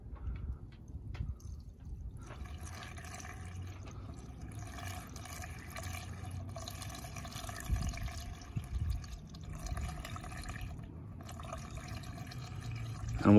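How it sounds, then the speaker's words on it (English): Prestone radiator flush poured into the radiator of a Nissan Titan, Armada or Infiniti QX56, a steady trickling, dripping liquid stream running throughout at moderate level with some low rumble beneath. "We're gonna add our radiator flush here."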